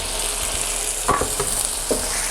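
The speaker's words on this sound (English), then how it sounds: "my mushrooms are nicely sautéed now" Mushrooms sauté with spoonfuls of sour cream in a hot pan, a steady close sizzle broken by a few soft stirring scrapes.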